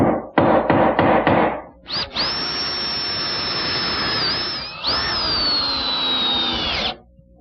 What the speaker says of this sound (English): And then I'll attach it with some screws.